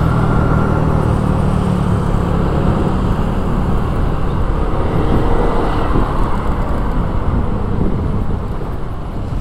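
Traffic jam heard from an Aprilia SR GT 200 scooter in Jakarta's Duren Sawit area: a dense, loud, steady wash of idling and creeping engines and road noise, close and continuous throughout with no talk.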